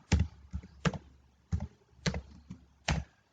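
Code typed on a computer keyboard, a handful of separate key clacks and taps spaced unevenly, close and clear with no voice over them.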